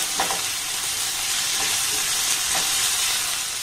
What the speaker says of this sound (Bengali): আবার এটাকে একটু নাড়াচাড়া করে ভেজে নেব।